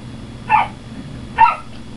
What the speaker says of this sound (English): Dogs barking in the background.